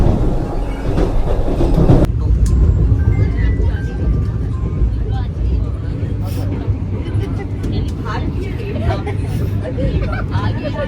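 Vande Bharat Express train running between Bhubaneswar and Puri, heard from inside as a steady loud rolling rumble with rhythmic clickety-clack, a noisy burst at the start, and faint voices and babble underneath.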